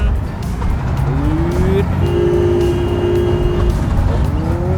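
A vehicle engine revs and drives on in the video game Construction Simulator while overtaking traffic, steady loud motor drone with rising and falling tonal whines throughout.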